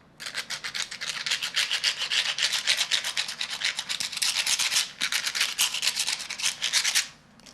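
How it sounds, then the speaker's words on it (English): A tattoo tool is rubbed back and forth to scrape off excess burr, making a dense, steady run of dry scratching strokes close to the microphone for about seven seconds, with no talking. "If you listen very closely, you can hear it scratching across. It's taking the excess burr off of this."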